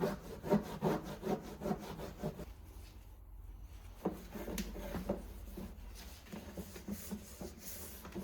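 A cloth is wiped back and forth over old junkyard car headlights, making a close, rhythmic rubbing and scraping sound in short strokes with a brief pause midway.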